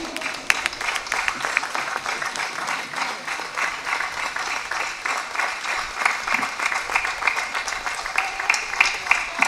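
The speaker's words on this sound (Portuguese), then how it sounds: "esse aplauso aí de baixo" An audience applauds at the opening ceremony of a folklore festival in Barcelos, Portugal, with dense, continuous clapping of a sizable crowd, steady and fairly close throughout.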